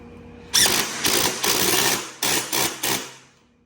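A power impact tool tightens bolts on a golf cart lift kit cross member, firing in a loud close series of rattling bursts, one long run and several short ones, with no talking.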